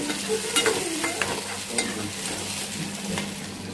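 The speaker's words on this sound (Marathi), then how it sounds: "त्याच्यामध्ये टमाटर टाकून घेऊया, पण थोडं तेलावरती परतवून घेऊया" Onion and tomato frying in oil while being stirred, a constant close sizzle with scattered spoon clinks and scrapes against the pan, no voices.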